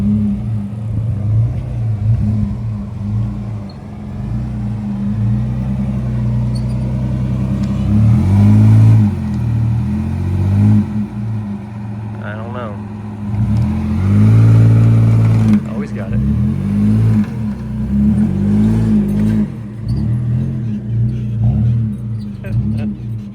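A built Nissan Frontier pickup in two-wheel drive growls up an off-road washout, its engine rumbling steadily with several loud revving surges as it claws for grip. Voices talk over it.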